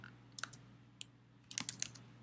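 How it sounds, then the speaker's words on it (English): Typing on a computer keyboard: sparse clicks at first, then a quick burst of several keystrokes, quiet and close over a low background hum. "So I'm going to start typing it in now."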